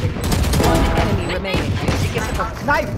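Rapid gunfire in Valorant crackles loudly and continuously across the whole moment, with a voice talking over the shots.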